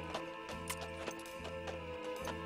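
A horse's hooves clip-clop at a steady walking pace, faint and distant, under a low continuous background hum.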